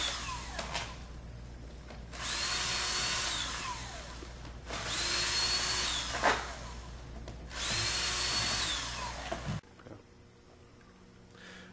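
A power drill backs Phillips screws out of a car's interior panel on a 2003–2006 Chevy. The whir comes in three long, steady runs of a few seconds each, separated by short pauses, followed by quiet at the end.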